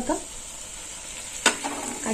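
Curry leaves dropped into hot spiced mustard oil for a Bengali tilapia curry, giving a steady soft sizzle with a sharp crackling burst partway through as the leaves hit the oil.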